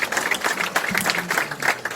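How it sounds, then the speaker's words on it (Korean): Applause from the audience at a Hwaseong city residents' regional meeting for the mayor, a steady patter of clapping filling the room for a couple of seconds, with faint murmurs underneath. "시장님께 다시 한번 큰 박수 부탁드리겠습니다"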